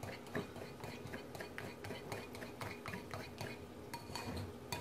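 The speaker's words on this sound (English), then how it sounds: "So I'm just going to mix this around until it's nice and smooth" A heavily seasoned paste mixed for a spaghetti squash dinner, a steady run of quick scraping clinks from a utensil against a bowl, close and busy, with no talking.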